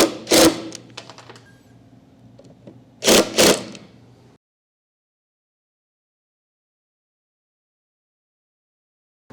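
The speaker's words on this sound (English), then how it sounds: "we're going to gently lock down the screws with an impact driver" An impact driver fires two short loud hammering bursts while driving screws into a wooden drop-leaf end table, with a low motor whir between them before the sound cuts to silence.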